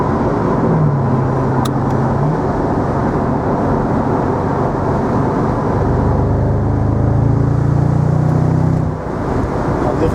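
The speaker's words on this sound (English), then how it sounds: "V8 noise." A 2003 Mercedes SL55 AMG V8 drives in manual paddle-shift mode, giving a steady, loud engine drone with rising and falling tones, heard from inside the car along with road rumble.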